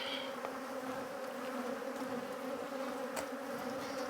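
Honey bees drone steadily around an open hive frame with drum brood during a spring inspection, a dense, continuous buzz close by with no talking.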